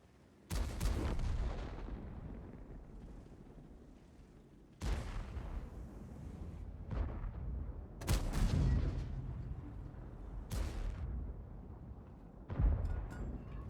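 Tank cannon shots in a tank video game: several loud booming blasts at irregular intervals, each trailing off into a rumbling decay, with no voices.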